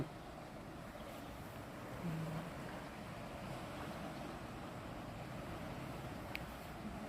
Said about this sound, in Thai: น้ำไหลแรงค่อนข้างจะแรงทีเดียว